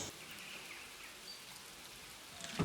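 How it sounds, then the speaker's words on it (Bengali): Light drizzling rain in the hills at Sittong falls steadily as a soft, even patter on surfaces, faint and constant, with a brief louder rustle at the end. "ঝিরঝির করে বৃষ্টি পড়ছে।"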